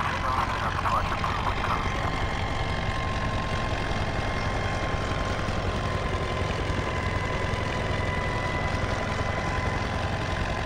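A continuous droning helicopter engine hum in the video game Farming Simulator 17, with a steady low rumble and faint whine, loud and unbroken for the whole stretch.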